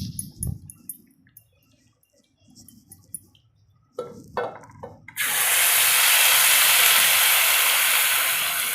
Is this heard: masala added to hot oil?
yes